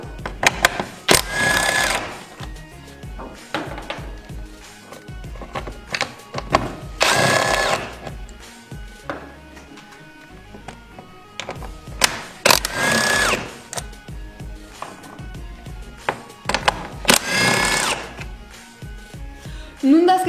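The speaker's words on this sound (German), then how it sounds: "Jetzt kann man die 4 Schrauben mit einer 13er Nuss abschrauben." Four separate bursts of power-tool whirring, each a second or two long with pauses between, as a 13 mm socket undoes four bolts under a BMW E36/E46 during gearbox and clutch removal.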